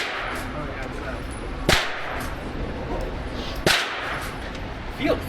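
An HK VP9 pistol is fired outdoors, giving three sharp cracks about two seconds apart over steady background hiss.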